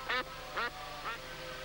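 Three loud, harsh duck quacks spaced about half a second apart, from birds along a stream bank, fading slightly by the third call over a quiet background.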